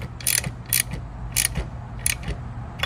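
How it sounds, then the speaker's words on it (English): A ratchet driving a 10 millimeter socket while fitting a chrome windshield, giving four or five short bursts of quick metallic clicking, close and fairly clear over a low steady hum. "I'm using a 10 millimeter socket"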